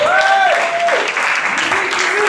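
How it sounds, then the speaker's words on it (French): Audience applause at a casino anniversary celebration in Salies-de-Béarn, a loud, dense wash of clapping with a sustained tonal sound sliding over it at the start. "On peut l'applaudir également."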